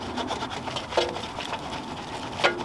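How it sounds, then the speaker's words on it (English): A mop scrubs a grubby car wheel, giving soft, uneven rubbing and rasping strokes with a couple of sharper scrapes near the middle and end, close and fairly quiet, no talking. "Got my trusty mop."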